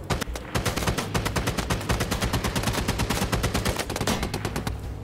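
Rapid bursts of automatic gunfire from a BRDM armored vehicle's mounted gun in a combat video game, loud close sustained firing in quick repeating shots.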